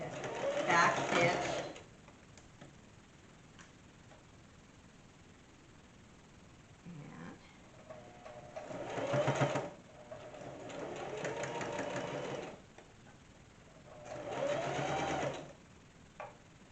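A sewing machine back stitching a bag lining runs in three close whirring bursts of a couple of seconds each, quiet pauses between them, with a voice heard faintly in the gaps.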